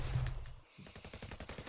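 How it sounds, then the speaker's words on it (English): A sound effect of many guns firing at once: rapid, rhythmic machine-gun bursts that start after a short heavy thump and continue as a dense, fairly quiet volley to the end. "Lots and lots of gunfire going on."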